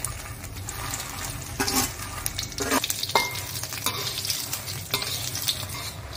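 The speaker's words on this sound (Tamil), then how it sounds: "அதே எண்ணெயில் மிளகா போட்டுக்கலாம்" Red chillies fry in hot oil for a spicy podi powder, giving a steady sizzle broken by several sharp scraping strokes of a spoon stirring the pan, close by and without talk.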